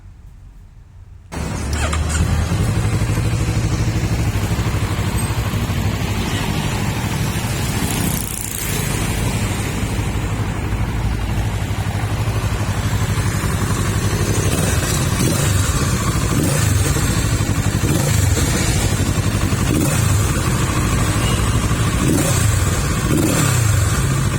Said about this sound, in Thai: เดี๋ยวเรามาชมเลขใหม่แล้วก็ฟังเสียงเครื่องยนต์คันนี้พร้อมๆกันเลยนะครับ